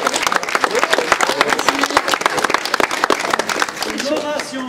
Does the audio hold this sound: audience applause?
yes